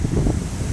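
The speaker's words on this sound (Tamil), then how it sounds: "காற்றடிக்குது, புயல் அடிக்கிற மாதிரி அடிக்குது." Strong, storm-like wind buffets the microphone in a dense, low, rumbling roar that stays loud and continuous through the brief moment.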